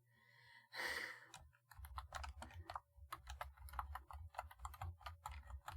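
Rapid clattering keystrokes on a computer keyboard follow a breathy sigh, the typing running in quick uneven bursts with a low background hum throughout.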